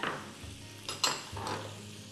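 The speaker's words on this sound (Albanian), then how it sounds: "Do t'i vë kapakun" A lid placed on a clay cooking pot holding onions softening in flavored water, with a couple of sharp clinks and clattering knocks over a soft background.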